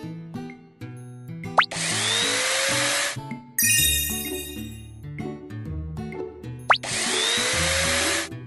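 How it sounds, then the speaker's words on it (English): Cartoon power drill in a vehicle repair shop, whirring in two sustained bursts over a bright music bed, with small clicks and tinkles between them. "Use the drill to nail up."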